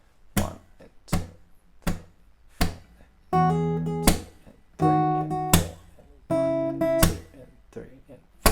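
Guitar playing a song's verse alternates sharp percussive taps with ringing strummed chords in a steady, even rhythm, up close and moderately loud, with a voice faintly present between the hits.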